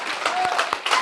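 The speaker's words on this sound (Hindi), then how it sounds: "तालियां बजाने की बात की गई है।" Audience clapping at a herbal products company training meeting, a short burst of distinct close claps with a voice speaking over it.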